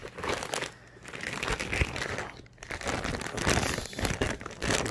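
A plastic packaging bag from a 100-inch 16:9 projector screen crinkles and crumples continuously as it is handled up close, with steady rustling throughout.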